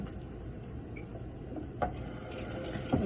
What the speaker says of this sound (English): I'm going to wash them. In a little strainer.